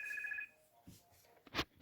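A telephone rings faintly in a room during a shabby chic craft tutorial, a short double trill that cuts off, followed by quiet handling noises.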